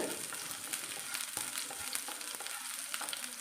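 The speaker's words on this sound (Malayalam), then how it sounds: "കുറച്ച് വെളിച്ചെണ്ണ ഒഴിച്ച് അതിലേക്ക് ഇഞ്ചിയും വെളുത്തുള്ളിയും ചെറുതായിട്ട് അരിഞ്ഞതാണ് വഴറ്റുന്നത്" Chopped ginger and garlic sautéing in coconut oil in a pan, a steady close sizzle with faint stirring scrapes, quiet and without voices.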